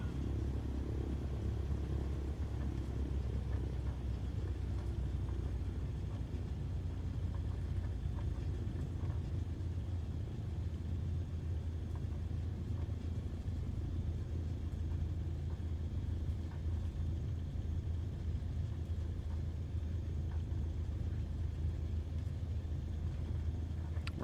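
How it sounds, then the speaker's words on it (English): A propeller aircraft taxis along runway 25 near Las Vegas in a VR flight simulator, a steady low engine drone and rumble holding at an even level throughout. "Taxiing down runway 25."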